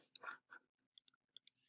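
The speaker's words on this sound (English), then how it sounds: "I'm going to go ahead and type this in" Keys tapped on a computer keyboard while entering a numeric answer, a few sharp, quiet clicks in short bursts separated by silence, close by and with no talk.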